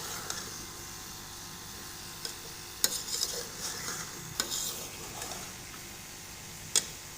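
Cauliflower rice being stir-roasted in a pan gives a steady low sizzle, with a spoon scraping and knocking now and then across the stretch, close and fairly quiet, no voices.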